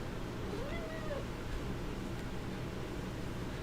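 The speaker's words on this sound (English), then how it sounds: "My cat is just taking over the live stream." A pet cat meows once or twice, close but fairly soft, over a steady fan-like background hum during a live stream.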